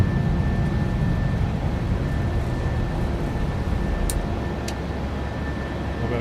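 A jet airliner taking off in the PMDG flight simulator, heard as a steady, loud broadband engine roar with a constant high whine, sustained throughout with no pauses.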